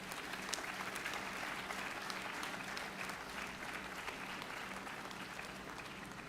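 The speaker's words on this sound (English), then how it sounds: "a huge, huge round of applause for these very special people" A large audience at an annual convocation ceremony claps in a sustained, dense round of applause, steady and even throughout.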